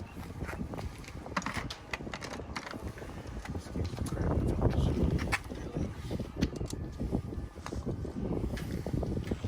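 Wind gusts buffet an outdoor spot while a Charger is worked on during a coilover update and oil catch can install. The wind noise is steady and rumbling, rising midway, with scattered clicks and tool-like taps. Nobody talks.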